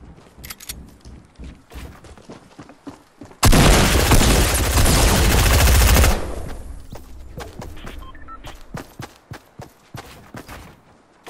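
Loud, dense burst of gunfire from a three-round burst weapon in Fortnite, a sustained crackling barrage lasting a few seconds, with fainter scattered shots and game sounds before and after.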